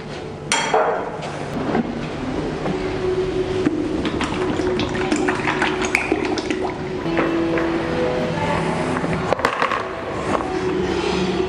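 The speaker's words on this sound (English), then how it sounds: "that's our gearbox full of oil for now" Oil glugs and trickles as it is poured into the gearbox of a Cummins trawler engine, a continuous close liquid pour with occasional clinks and knocks.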